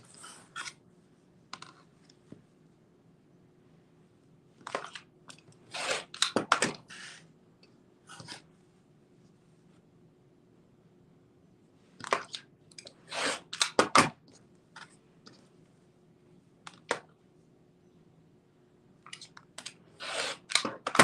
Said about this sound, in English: I'm going to trim 1/4 inch from the basting stitch on all sides